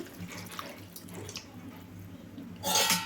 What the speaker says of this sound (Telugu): ఒక గ్లాస్ వరకు అయితే వాటర్ పోస్తున్నాను